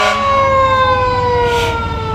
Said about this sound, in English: Just sirens everywhere.